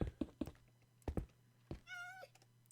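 A sad-sounding cat mob in the Minecraft video game, heard as a single drawn-out, wavering meow among the game's thuds and clicks.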